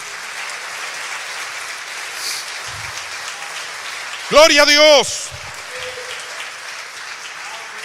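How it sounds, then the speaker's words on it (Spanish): A church congregation applauds steadily through a Spanish-language service, a dense even patter of many hands, with a voice briefly calling out over it midway. "Alguien dele un aplauso a Dios en esta mañana."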